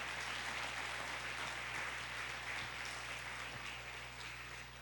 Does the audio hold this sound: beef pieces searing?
no